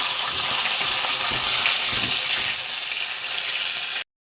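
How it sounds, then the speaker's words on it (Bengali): Katla fish head frying in hot oil, a steady close hiss and crackle of sizzling that runs unbroken, then stops abruptly. "প্রথমে কাতলা মাছের মাথা ভেজে নেবো।"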